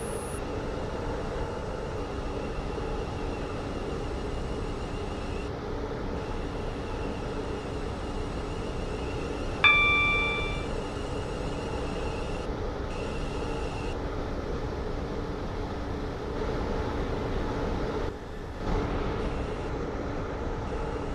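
A Class 165 train runs on the Waterline in the Roblox game Stepford County Railway, a steady, low synthetic rumble of motor and wheels that holds even throughout, with a short chime partway through.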